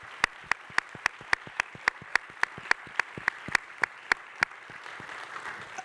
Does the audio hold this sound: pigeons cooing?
no